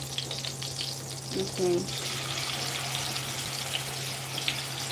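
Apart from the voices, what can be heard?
chicken frying in a pan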